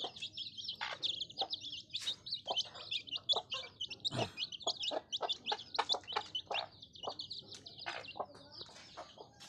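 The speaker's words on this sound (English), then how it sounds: "This is our chicken." Local chickens on a farm keep up a dense, busy chorus of clucks, chirps and short calls, with many overlapping birds close by and no talking.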